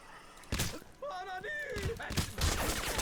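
Gunfire from the shooter video game Crysis Remastered, a burst of sharp shots and thuds in a short chaotic exchange, with a voice talking over part of it.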